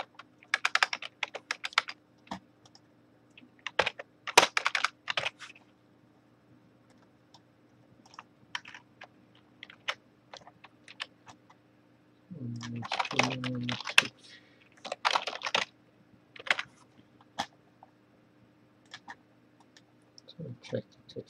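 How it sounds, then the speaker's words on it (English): Someone types on a computer keyboard during a live programming stream, quick irregular bursts of clicking keys separated by pauses, with a brief low voice in the middle. "Can you see the comments that I'm typing in the Twitch chat?"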